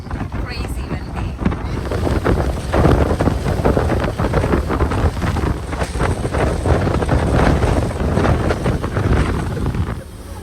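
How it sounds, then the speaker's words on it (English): Strong wind roars across an open deck of the cruise ship Carnival Horizon, constantly buffeting the microphone while a voice talks underneath. "But it does get windy here, so make sure you're ready for some wind"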